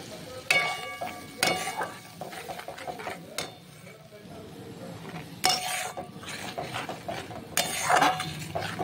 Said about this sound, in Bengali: ব্যাস এবার ভালো করে মশলাটা কষে নেব